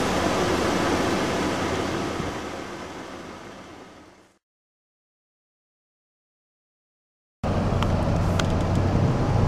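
A 1989 Ford F-150 4x4 stick-shift truck drives with a steady, loud cabin and road drone that fades away into a few seconds of total silence, then returns just as strongly.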